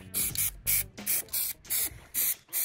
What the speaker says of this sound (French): remplir le maximum les zones en fait qui ne seront pas accessibles au pinceau avec la bombe